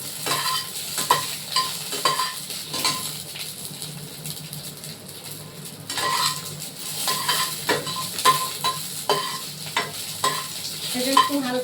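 Onion and dried red chili frying in a pan, a steady close sizzle broken by repeated sharp scrapes and stirs of a spatula against the pan throughout.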